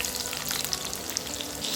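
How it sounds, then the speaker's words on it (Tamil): Small onions (shallots) hit hot oil in a kadai, crackling and sizzling steadily at close range, a dense bright hiss with scattered sharp pops and no voices. "நான் அதில் வந்து சின்ன வெங்காயத்தை சேர்த்துக்கிறேன்"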